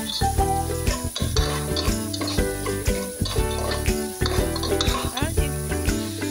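Garlic, onion and ginger sizzle while being stir-fried for spicy crab and gambas shrimp, with steady close frying and repeated stirring scrapes, partly masked by music playing over it.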